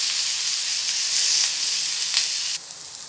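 Yam slices fry in hot oil with curry leaves, giving a bright, continuous sizzle close up that swells slightly midway and then drops to a softer crackle near the end, with no voices.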